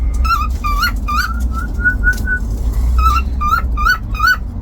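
A cockatiel whistles its mating call, a series of bright, rising chirps in short bursts with a brief sustained run, close and loud over a low background rumble.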